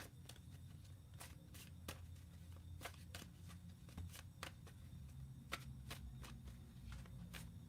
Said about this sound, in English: So give it a little shuffle.